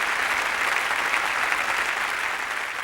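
Audience applause at a Pongal festival debate event in Tamil, steady dense clapping from a crowd, fairly even throughout and heard alone without talk.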